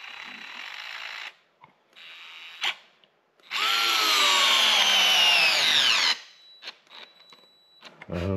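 A DeWalt gyroscopic screwdriver drives a 1 5/8 inch drywall screw in short buzzing starts, then a sustained loud whirring run of about three seconds that strains and slows before stopping, followed by faint clicks.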